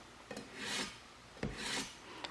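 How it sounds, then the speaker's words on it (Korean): A kitchen knife blade rasps slowly across a ceramic sharpener in two long, smooth strokes, close and quiet. "칼을 요 사이에 놓고 1번부터 그냥 갈아 보겠습니다"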